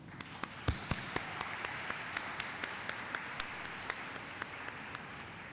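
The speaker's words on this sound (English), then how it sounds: "join me in giving them a round of applause" Faint, scattered applause from a distance at a moot court inauguration ceremony, with sharp individual claps popping out at an uneven but steady pace.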